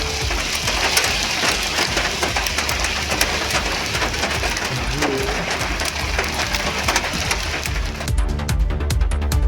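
A sudden hailstorm pelts the roads in Dharwad, Karnataka, a loud, dense clatter of countless impacts with a few birds calling faintly through it.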